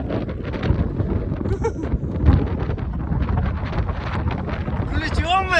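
Strong wind buffets the microphone in a loud, continuous roar while a boat is out on the water, with a person talking over it.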